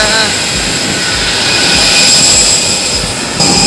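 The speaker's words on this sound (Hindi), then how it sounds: "कितना बड़ा जेट इंजन है" An Airbus jet engine roars loudly and continuously at an airport, a broad steady whine and rush with high tonal lines, heard up close throughout.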